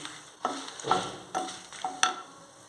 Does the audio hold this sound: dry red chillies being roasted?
yes